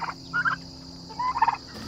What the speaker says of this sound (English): Now these turkeys are the ones, we had 15 of them and we lost most of them